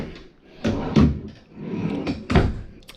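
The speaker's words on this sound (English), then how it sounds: "You've got two drawers here." Drawers in a 2022 Kodiak Ultra Lite 242RBSL travel trailer sliding open and shut, several close knocks and thumps with rattling in between, nearby and moderately loud.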